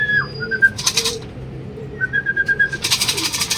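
Racing pigeons arriving at the loft during club training in Calauag, Quezon: short whistled bird calls and wingbeat-like flutters come in separate bursts, fairly close, with no talk.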